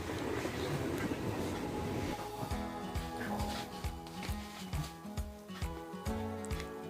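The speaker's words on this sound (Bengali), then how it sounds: "দেখতে দেখতে ট্রেন চলে আসলো আমাদের যাওয়ার" Train arriving at a platform: a loud, busy wash of rolling rail noise, then a string of rhythmic wheel clunks as the cars pass close by, with a faint dog bark somewhere in the background.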